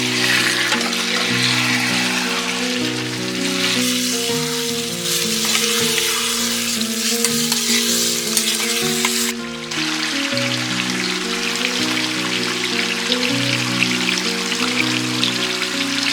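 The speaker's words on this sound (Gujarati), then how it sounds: "બધાને સરસ ફેરવી દઈએ" Chicken masala with Kashmiri red chilli sizzles and crackles in a hot pan as it is stirred, heard under steady background music.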